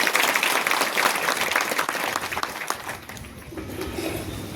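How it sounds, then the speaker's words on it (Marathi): An audience at a gathering honouring a spiritual guru, Yogi Keshav Maharaj Chaudhari, claps loudly as one dense wave of applause that thins and fades near the end. "त्यांच्यासाठी पण जोरात टाळ्या."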